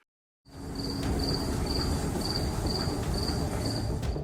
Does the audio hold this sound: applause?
no